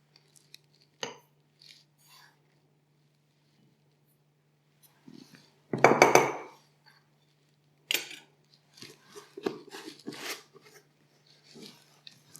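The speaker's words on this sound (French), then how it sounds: "Alors on va mettre 2 bonnes cuillères à soupe de bicarbonate." Baking soda spooned into a container for a homemade cleaner with cold water and black soap: a few soft scrapes and clinks of a spoon against the container, with a louder rustling pour in the middle and scattered light knocks after.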